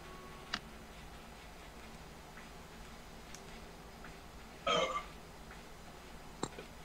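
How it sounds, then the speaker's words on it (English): One short, fairly loud burp in a quiet room, surrounded by faint clicks and ticks. "Who just burped?"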